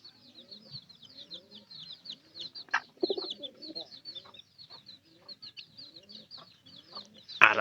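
Chickens cluck and murmur close by in a rural yard, a busy run of soft repeated calls with a few louder bursts, over a faint background of other birds chirping.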